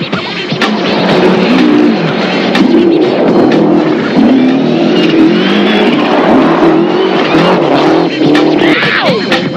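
A Lancia rally car driving a stage at the 1993 WRC New Zealand rally, its engine revving hard and rising and falling through the gears, loud and close and continuous.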